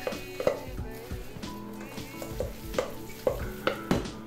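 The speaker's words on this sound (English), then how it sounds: "I can just mix that in with the beef" Ground beef in a pan as a crumbly ingredient is mixed in, a close frying sizzle broken by several scraping, clattering stirs and knocks against the pan.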